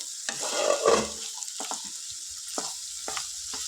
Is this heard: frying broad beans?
yes